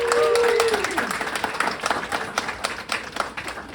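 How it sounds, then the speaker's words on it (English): An audience at a panel discussion applauds local restaurateurs. Dense, close clapping starts at full strength under a brief voice, then gradually thins and tapers off. "Give them a round of applause."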